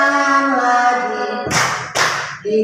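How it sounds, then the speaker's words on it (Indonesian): A presenter leading a classroom hand-movement song claps twice, two sharp broadband hits following a sustained sung tone, with a brief vocal note resuming at the end. "tepuk tangan lagi."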